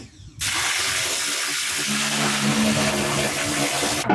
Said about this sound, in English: he's spraying water on this thing